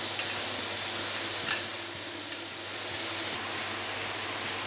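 Spice paste for a spicy mutton curry with potatoes sizzles steadily in a pan, a continuous close frying hiss with a few faint stirring scrapes, dropping slightly quieter near the end; no talking.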